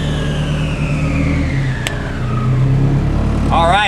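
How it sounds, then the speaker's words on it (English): Turbocharged SR20 engine in a Datsun 510 held loud and steady near the rev limiter, a continuous high engine roar with a sharp brief cut around the midpoint, then a rising whine near the end. "There was our first rev limiter touch."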